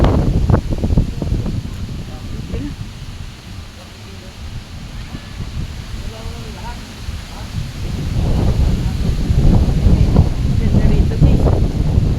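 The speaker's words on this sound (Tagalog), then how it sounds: "grabe ang lakas ng hangin guys." Strong wind buffeting the microphone in loud, continuous gusts, with rustling and roaring throughout, and people talking faintly underneath.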